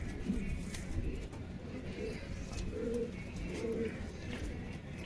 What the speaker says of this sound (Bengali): এই হচ্ছে স্টাইলিং কোয়ালিটি কবুতর দুটো